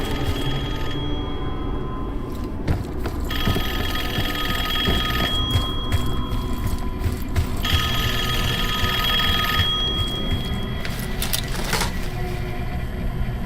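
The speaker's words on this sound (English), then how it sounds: "Answer the phone." A telephone rings in the Call of Duty Black Ops 6 video game, a steady electronic bell repeating in bursts for several seconds over a constant background hum of the game environment.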